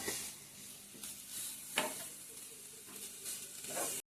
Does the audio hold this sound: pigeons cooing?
no